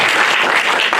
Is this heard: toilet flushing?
no